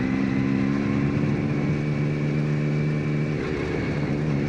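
A Triumph Street Triple motorcycle labours up a very steep incline in northern Thailand, its engine a steady loud drone heard close up. The pitch holds level, then dips and rises again near the end.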